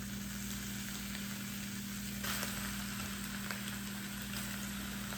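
Steady loud sizzling of chicken and noodles stir-frying for pad Thai in a hot wok, a constant crackling hiss with a low hum underneath and no talking.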